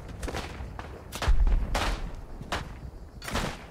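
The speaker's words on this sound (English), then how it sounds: "I don't know what we got hit by, but it was a big explosion." Explosions and gunfire in Isonzo, a WW1 tactical shooter game, several sharp booming blasts, with one heavy low thud, scattered through the clip, fairly near and loud.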